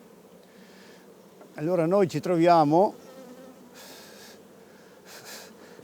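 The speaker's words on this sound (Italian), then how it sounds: "abbiamo a che fare con un mare di api" A honeybee colony swarms around an open hive during a July beekeeping practical, with the air full of bees, producing a steady low buzz throughout while someone speaks briefly over it.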